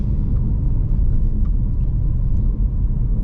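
Car tyres rolling on town roads make a steady, loud, low rumble heard from inside the cabin, constant and unbroken throughout, with no voices.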